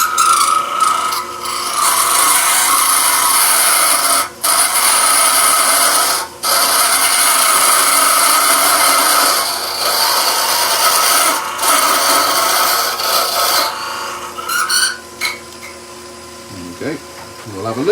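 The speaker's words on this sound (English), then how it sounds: "One more cut on the hook with the follower and we're done." Woodturning hook tool with a follower cutting wood on a lathe, a loud continuous scraping hiss lasting many seconds with a few short pauses, quieting near the end as the cut finishes.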